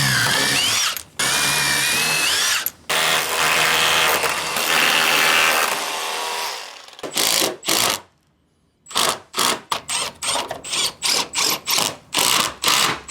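A power drill drives GRK structural screws into lumber, first in a long continuous whine with shifting pitch, then in a string of short bursts separated by brief pauses.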